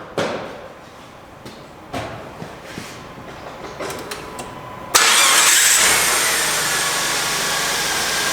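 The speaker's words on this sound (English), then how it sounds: "Next, we'll simply make sure that the engine starts." A 1999 Dodge Intrepid with a freshly replaced battery is started: a few quiet clicks and clunks come first, then the engine catches suddenly and settles into a loud, steady idle close to the microphone.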